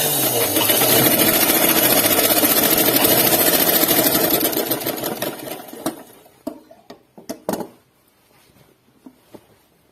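Sewing machine stitching a collar neck dress, a steady fast mechanical whir running loud for about five seconds before winding down into a few short bursts and clicks.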